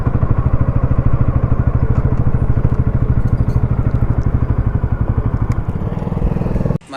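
Bajaj Pulsar NS200 motorcycle riding on the ORR, a loud, close, rapid engine thrum with steady rhythmic pulses and wind rush, easing off near the end before a brief knock.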